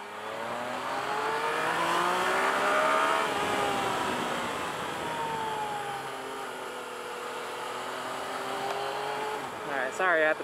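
A car engine revs and accelerates to overtake a slower vehicle on a drive around Mt Fuji near Lake Motosuko. The loud, steady engine drone rises and falls, with a sharper burst near the end.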